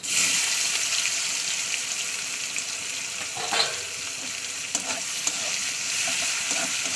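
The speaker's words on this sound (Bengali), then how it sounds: "তেলটা আমার গরম হয়ে গেছে এবার আমি দিয়ে দেব একটা গোটা বড় পেঁয়াজ" A whole large onion drops into hot oil and fries with a steady, loud, close sizzle that holds for the full stretch, with only small crackling flares and no talking.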